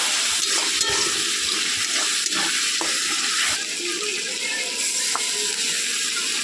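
Masala spices fry in oil left over from browning chicken in yogurt, a continuous close sizzle with repeated scraping and ratcheting strokes of a spoon stirring along the pan bottom.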